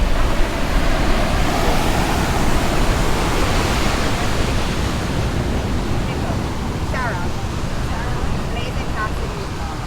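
Big ocean waves roll in at Keawaʻula Bay, Oʻahu, with a constant loud roar of surf and wind-blown hiss that carries on throughout, close and heavy.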